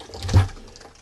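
Water splashes briefly across a surface being rinsed: a single quick gush peaks and then fades into a soft, lingering trickle.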